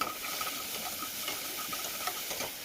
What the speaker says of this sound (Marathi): त्याच्यानंतर मी हे वाटाणे इथं फोडणीत टाकून घेतलं आहे.